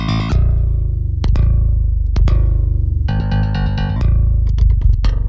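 Metal bass DI from the Sanguine Bass MIDI plugin, unprocessed apart from a trim: loud, punchy plucked notes with sharp, high-attack onsets in short bursts and quick repeated runs, played alone.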